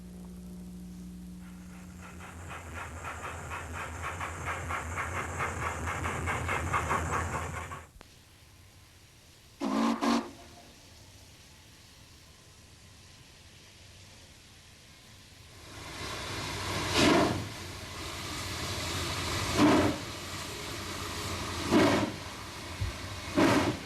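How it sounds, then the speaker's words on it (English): A steam locomotive sits with a long steady hiss of released steam, then a brief burst, followed by rhythmic chuffs that build in a rising series of loud exhaust beats. "A steam locomotive clears its throat."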